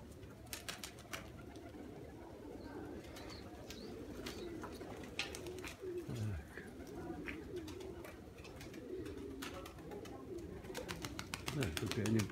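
Pigeons coo softly in a loft of fancy flying and tumbler breeds, low murmuring calls rising and falling amid occasional wing flaps and clicks, while someone talks over them.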